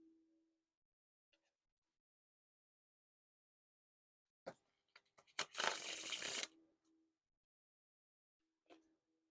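Orbit Cardistry-Con Second Edition playing cards spread in a wide pan across a surface, a few soft taps then a quick, crisp rush of cards fanning out, close and quiet in a silent room.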